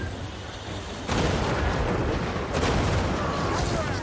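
A triple shot attack by a Tzeentch bird unit in the video game Total War: Warhammer 3 erupts about a second in as a loud, sustained barrage of booming blasts over a rumbling battle background.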